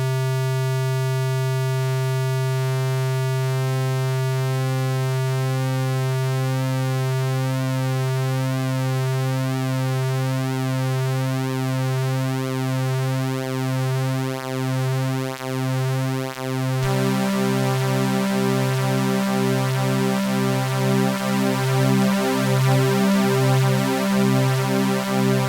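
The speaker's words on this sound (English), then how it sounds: "let's go ahead and take a listen to the pulse width modulation" A steady buzzy u-he Tyrell N6 synthesizer pulse wave with pulse width modulation, its timbre sweeping and phasing continuously, growing brighter and more pulsing partway through.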